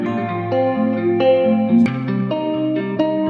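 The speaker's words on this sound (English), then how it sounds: "I'm going to use a little bit of reverb and a little bit of echo maybe, just to kind of smear it a bit at the end" A looped electronic music edit of a pop track, smeared with reverb and echo, plays loud and steady with sustained tones and periodic sharp hits, no voices.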